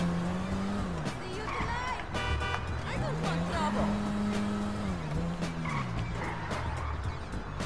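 A car driving in the video game GTA V Online, with a steady engine drone that rises and falls in pitch as the tires squeal and skid, while someone talks over it throughout.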